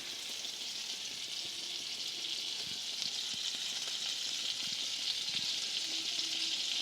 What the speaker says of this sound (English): I've just added my butter and I added some garlic, some scallion. I'm gonna switch it around a little to fry.